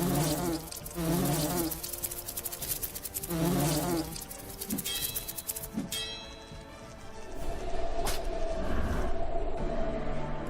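In the fantasy RPG Lords of Xulima, wasps give off several pulsing buzz bursts, followed by sharp game effect hits and a brighter chime-like tone, then a steadier low hum with no voices.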